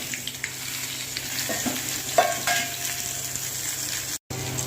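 Ginger fries in hot oil for a potato curry, a steady close sizzle with a few stirring clinks and spatula taps, briefly cut off near the end.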